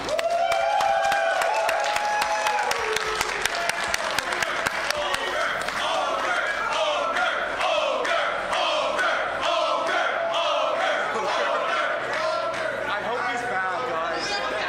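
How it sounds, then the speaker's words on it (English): A crowd applauds loudly and steadily with cheering mixed in at a fighting game tournament's top 8 on the main stage, a dense wash of clapping that carries on throughout. "one last round of applause"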